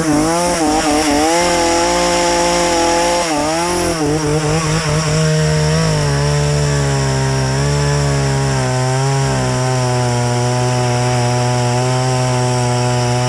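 A Champion chainsaw engine roars loudly and continuously, its pitch dipping and rising as the throttle changes, with no voices over it.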